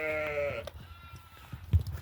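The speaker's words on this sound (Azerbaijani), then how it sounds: "Təmiz, xalis boz qoyundu" A single grey ewe bleats loudly up close, a wavering cry lasting about half a second, followed by quieter shuffling and low thumps.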